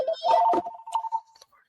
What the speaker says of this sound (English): Phone calls are coming in.